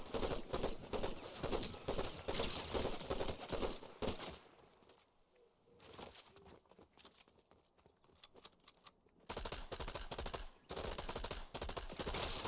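Rapid bursts of gunfire from a Fortnite fight, dense repeated shots for several seconds, a quieter lull, then loud volleys resuming near the end; no talk over the shooting.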